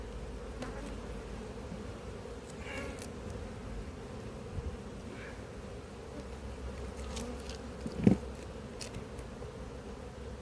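Honey bees hum softly and steadily around an apiary hive, a faint continuous buzz with a few louder passes and a brief knock.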